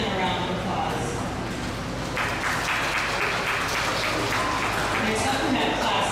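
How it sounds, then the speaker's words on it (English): An audience at a 4-H/FFA rabbit show in Lyon County, Iowa claps in a brief, steady round of applause, with indistinct voices underneath in a large indoor space. "Let's give Ethan a round of applause."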